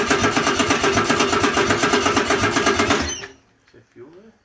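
A Ford Falcon 221 engine with no exhaust fitted runs loud and raw, with a rapid, even chattering firing pulse for about three seconds before it cuts out abruptly, followed by a few quieter clicks and brief voices.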